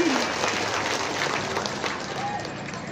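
Continuous applause from an audience at an Islamic religious talk, a dense steady clatter of clapping that fades slightly toward the end, with a voice faintly heard.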